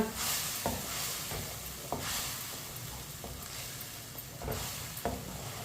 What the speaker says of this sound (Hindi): टमाटर को भी 2 मिनट के लिए मैंने चम्मच चलाते हुए पका लिया है।